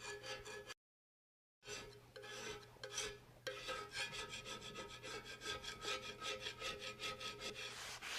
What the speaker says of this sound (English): I'm going to use this rather crude scraper just to go over it and pop off some of that stuff